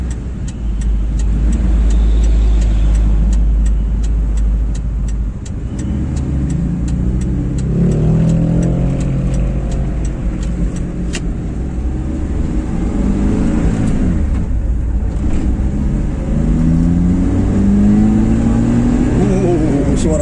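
A Suzuki Ertiga car engine revs hard and loud close by, its pitch sweeping up and down through several throttle blips over a steady low rumble.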